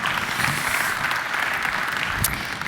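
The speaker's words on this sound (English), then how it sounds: "I think we can give him a warm round of applause." An audience at a cybersecurity summit gives a speaker a warm round of applause, dense, loud, continuous clapping filling the hall throughout.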